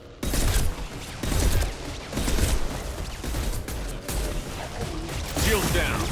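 Sustained bursts of gunfire fill a Mass Effect 2 ambush fight, with rapid volleys rolling in waves over about six seconds. The shots are loud and close, and heavy low rumble and game effects sit underneath them.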